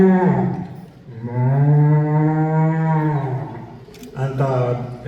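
Man imitating a cow's moo during a stand-up comedy show, one long drawn-out lowing call followed by a shorter second one, close and loud.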